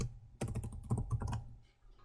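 Rapid keystrokes on a computer keyboard while entering a command, a dense burst of close clicks for about a second, then tapering to a few lighter taps.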